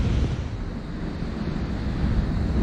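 A waterfall at the Cascada de Fuego in Valle de los Chillos roars steadily and loudly, a dense unbroken rush of falling water mixed with some wind buffeting on the microphone.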